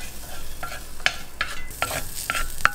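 A snack tossed and stirred in a pan over high flame, with soft sizzling and a run of sharp metallic scrapes and clinks from the utensil at irregular intervals.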